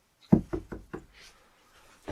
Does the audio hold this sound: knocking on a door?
yes